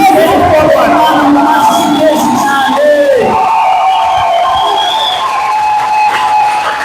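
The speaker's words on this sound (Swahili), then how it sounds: "Simama upige makofi na vigelegele." A church congregation at a prayer service cries out together, with loud high wavering ululation and shouting rising over a dense crowd roar. It stays close and continuous throughout.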